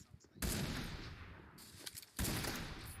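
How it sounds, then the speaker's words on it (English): Two heavy AMR sniper rifle shots in PUBG Mobile, each a loud sudden blast with a long rumbling tail, spaced well apart over quiet background. "whenever I shoot, the recoil goes up"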